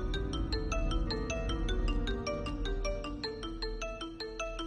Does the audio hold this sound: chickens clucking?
no